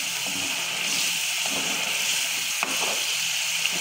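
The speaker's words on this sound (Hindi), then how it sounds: "अच्छे से मैं इसको फ्राई करूँगी।" Tomato paste tadka for masoor dal fries in a pan with a steady, close sizzle, broken by occasional soft stirring scrapes and clinks.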